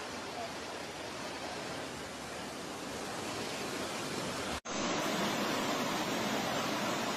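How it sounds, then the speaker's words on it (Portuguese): Strong floodwater rushes past houses in Brazil during a severe rainstorm, making a loud, steady roaring wash that fills the whole clip with only a brief dropout near the end. "a água tá muito forte"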